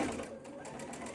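Sewing machine stitching LeMoyne star quilt pieces, a steady close whirring hum running throughout without pause, with no speech.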